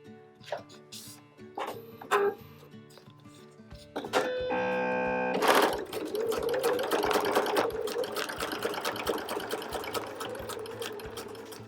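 After some quiet handling clicks and rustles, a domestic sewing machine starts up and runs a steady, moderately loud stitching whir while a seam is sewn on recycled denim jeans for a patchwork bag.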